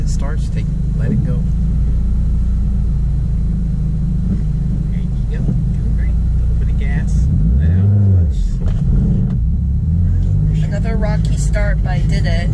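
A manual transmission car engine being started, a loud continuous rumble with a brief revving swell near the end, heard from inside the car under talking voices.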